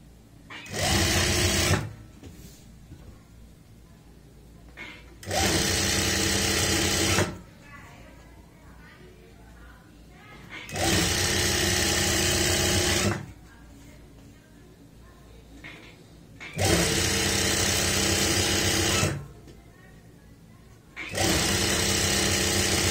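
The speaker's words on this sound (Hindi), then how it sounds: "तो ये हमने सिलाई लगा ली है।" A sewing machine stitches fabric for palazzo pants in five loud, rapid bursts of needle clatter, close by, separated by quieter pauses where the cloth is handled and a voice talks.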